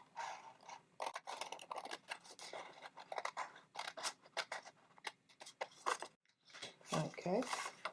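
Scissors snip through a sheet of paper for a mini book, a run of short crisp cuts in irregular bursts, close and fairly loud, with brief pauses and rustling between strokes.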